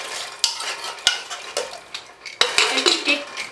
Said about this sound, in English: Mix everything well